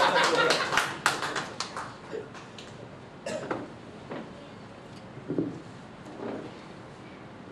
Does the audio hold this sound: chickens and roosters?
no